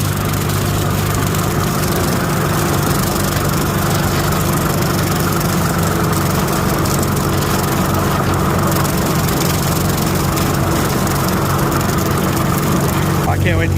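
An antique tractor engine runs at high throttle while mowing, a loud, steady mechanical drone with a low rumble that holds constant throughout, and a person speaks over it.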